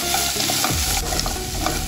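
Onions and carrots sauté in a pan for a vegetable pulav, giving a steady close-up sizzle with scraping stir strokes throughout.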